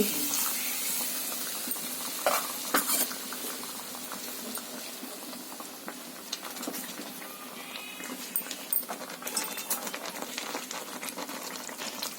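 Hot water being poured into a pot of egg curry sambar gives a steady bubbling, splashing liquid wash that lasts throughout, with no voices.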